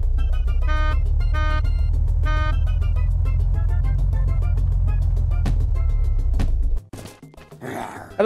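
Car engine in the survival video game Unturned, a loud steady low rumble with a pulsing tone on top that runs for several seconds, then cuts off abruptly and gives way to brief scraping noises.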